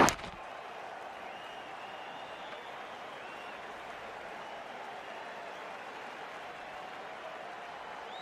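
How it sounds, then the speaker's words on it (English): Steady crowd roar from a stadium in the Cricket 22 video game during the last ball of an IPL final between MI and LSG, a dense, even wash of cheering and applause that holds at a constant level after a brief sharp knock at the start. "Listen to the crowd. It's electric in the ground."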